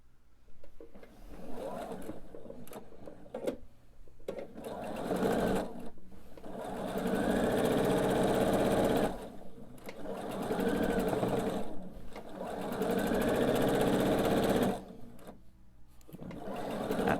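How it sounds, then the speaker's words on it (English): A sewing machine stitches a quilt seam in several long bursts of fast, steady whirring, pausing briefly between runs, close and moderately loud. "And now we're going to sew our seam"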